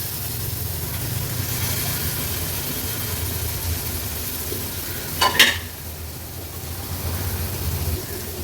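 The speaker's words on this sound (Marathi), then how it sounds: "आता ही मच्छी व्यवस्थित या मसाल्यामध्ये मिक्स करून घेते।" Datri dhom fish is stirred into sizzling masala in a pan, a steady broad sizzle running throughout with one sharp scrape of the spoon near the end, heard close with no talk.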